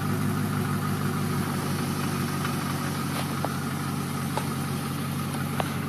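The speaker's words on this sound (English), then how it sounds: "I can't rev the engine and hold the camera back here at the same time" A 2000 BMW E39 540i V8 with its muffler deleted idles steadily, a continuous loud low rumble with a few faint clicks on top.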